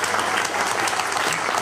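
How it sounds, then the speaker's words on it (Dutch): Dense, steady applause from an audience at a municipal election debate in Bladel, many hands clapping together loudly and evenly throughout the short stretch. "Geef ze een warm applaus."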